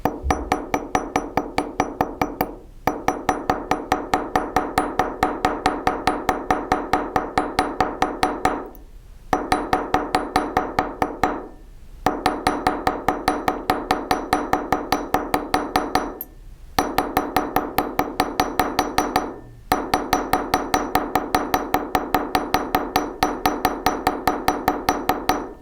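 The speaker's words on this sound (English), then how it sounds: "just lightly tap." Small hammer lightly tapping the head of a nail head rivet in jewelry work, a rapid, even run of bright metallic taps broken by a few short pauses, close and clear with no talking.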